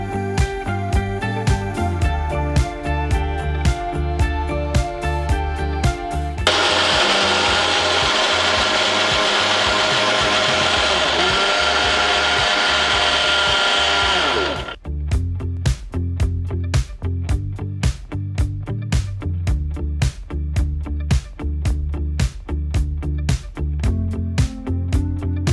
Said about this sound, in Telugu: ఇది ఇంక ఇప్పుడు మనం మిక్సీ పట్టేద్దాం.